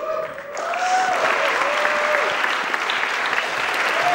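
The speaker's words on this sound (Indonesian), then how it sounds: "Tepuk tangan sekali lagi untuk Akbar." Studio audience applause for Akbar after his stand-up set in the comedy competition SUCI, steady dense clapping that swells in after a brief opening and holds loud to the end.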